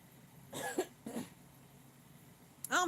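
A few quiet coughs and throat sounds from one person, two short bursts early and another at the end, close to the mic over a faint background.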